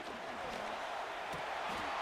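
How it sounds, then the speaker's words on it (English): A football stadium crowd roars on third down, a broad, fairly quiet wash of cheering and scattered whoops that holds steady from start to finish. "This crowd into it now as we get to 3rd down."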